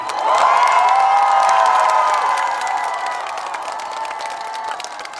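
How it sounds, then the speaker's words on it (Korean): A crowd applauds and cheers at an outdoor honorary road proclamation ceremony in Sacheon, a loud dense roar that swells early and then gradually fades. "여러분 박동식 시장님과 우리 가수님에게 큰 박수 부탁드립니다."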